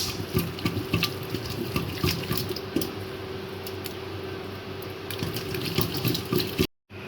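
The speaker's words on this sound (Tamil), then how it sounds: "இப்போ பாருங்கள், நல்லா கடைஞ்சிக்கலாம் கீரையை." Cooked amaranth greens and lentils are mashed with a hand churner, giving a continuous wet squelching and sloshing with rhythmic pulses that runs steadily before cutting off briefly near the end.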